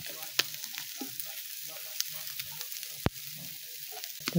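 Puti fish sizzle in hot oil with thinly sliced onions just added, a steady close crackle broken by sharp pops and the scrape of stirring.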